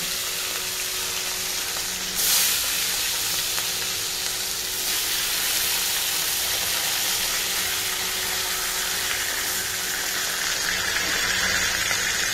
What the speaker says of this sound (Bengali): এই যে মাছটা ভেজে নিচ্ছি।